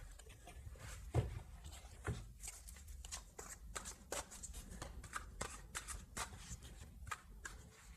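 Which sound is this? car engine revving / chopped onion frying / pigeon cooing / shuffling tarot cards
shuffling tarot cards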